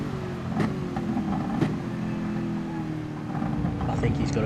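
A Jaguar race car engine in a racing video game drones under steady commentary, a continuous mid-level roar with gear-change blips and light shifts in pitch as the car laps the Red Bull Ring circuit.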